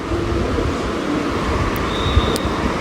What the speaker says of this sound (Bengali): এই যে কক্সবাজার আইকনিক রেল স্টেশন